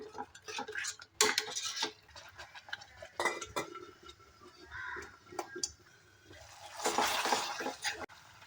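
Spoon clinking and scraping against a pot while whisked yogurt is stirred into a dum aloo gravy, a series of sharp metallic taps and scrapes at close range with quieter gaps between them, no voices.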